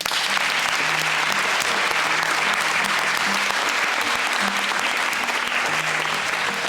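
Steady sustained applause from an audience honouring orators at the final of a French speaking contest, dense even clapping throughout with a faint low hum underneath and no voices.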